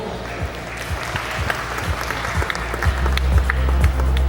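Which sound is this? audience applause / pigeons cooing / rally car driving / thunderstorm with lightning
audience applause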